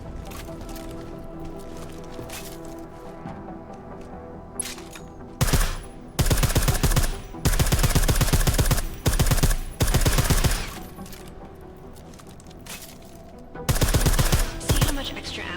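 Suppressed gunfire from the video game Deus Ex Mankind Divided, loud bursts of rapid shots in several clusters separated by quieter stretches of ambient game sound.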